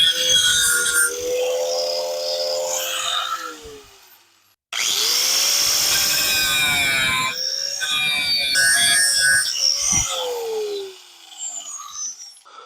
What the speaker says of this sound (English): I'm just going to start by cleaning paint off here.